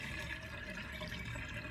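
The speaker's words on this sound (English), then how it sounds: "You can actually hear water going down the plug hole" Water gurgling and draining down a plug hole, a steady low rushing wash that continues without a break at moderate loudness, with no voices.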